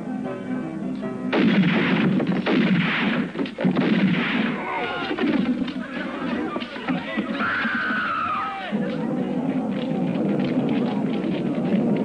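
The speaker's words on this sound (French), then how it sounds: "on a tiré par la fenêtre" Gunshots fired through a window during a Western film scene; loud, dense bursts of gunfire roll on for several seconds, mixed with crowd commotion and shouting voices.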